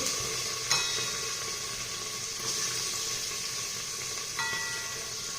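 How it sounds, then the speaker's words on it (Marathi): Finely chopped onion frying in hot spiced oil, a steady close sizzle with a few sharp clinks of a stirring spoon against the pan. "हे सर्व मसाले तेलात टाकल्यानंतर जो बारीक चिरून घेतलेला कांदा आहे तो यामध्ये घालायचा आहे"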